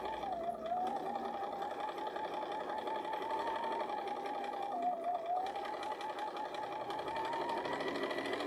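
A sewing machine runs a long continuous stretch, stitching a seam in toweling fabric. The motor keeps up a steady, even whir throughout, fairly quiet and close, with no talking.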